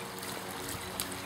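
Water trickling and splashing steadily off the front of a large boulder fountain set on a stone, a soft continuous patter with no voices.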